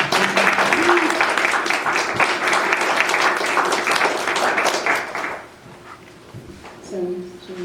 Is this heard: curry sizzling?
no